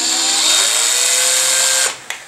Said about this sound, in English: Here's the drill bit. You make the hole.